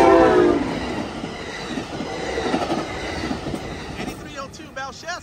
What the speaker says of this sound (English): these are some high-speed, fast Capital Corridors and Coast Starlight trains flying on this line